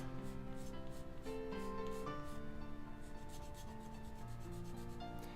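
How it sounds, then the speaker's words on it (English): A file working down a piece of resin in steady, close rasping strokes, faint and continuous beneath a background hum, with no talking. "while I'm sitting here and I'm filing on this to work it down"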